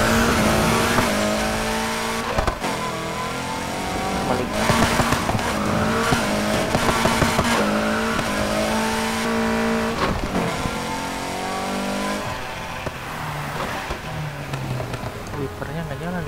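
Racing car engine in Need for Speed Heat on Xbox Series S, steady loud revving with pitch sweeps rising and falling, tire noise and rain-like hiss underneath, continuous throughout with game music and effects mixed in.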